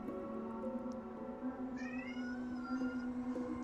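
An upset cat meows in a drawn-out, wavering caterwaul, close and moderately loud over a steady low background hum.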